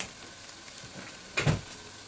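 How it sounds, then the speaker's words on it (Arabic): Spices roasting in a pan with softened onion and garlic for okra and baked rice, a low steady sizzle with one short louder burst of stirring near the end, close and quiet without speech. "هحمص البهارات دقيقه كده مع"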